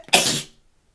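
A single sharp sneeze, close and loud, bursting out and fading quickly into silence.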